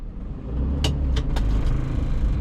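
A car pulling away uphill after the handbrake is released, with a low steady engine rumble rising slightly and a few brief sharp clicks midway, close and without speech.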